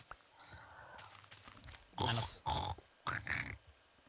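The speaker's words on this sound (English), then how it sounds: "Epic pig noise." Several harsh, squealing grunts in quick bursts, loud and close, like a pig's snorts, with short gaps between, from a pig in Minecraft.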